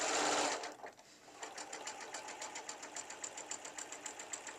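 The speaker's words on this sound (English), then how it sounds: "I'm sewing it super slow so it doesn't bleed on to my fabric" A sewing machine stitches leaves onto a Tula Pink Big Woods quilt at very slow speed, a steady string of soft, evenly spaced mechanical thumps after a short burst of louder noise.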